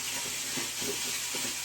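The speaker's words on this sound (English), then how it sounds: "You can see that the steam is coming out." Portable steam cleaner releasing a steady, broad hiss of steam, continuous and fairly close, with faint pulsing underneath.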